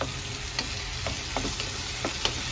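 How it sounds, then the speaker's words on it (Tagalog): Onions sautéing in a pan as tomatoes are added for an egg tomato soup: a steady, close sizzle of frying with a few soft stirring scrapes and light clicks, no voices. "Ayan, medyo luto na yung sibuyas. Saka natin ilagay yung kamatis."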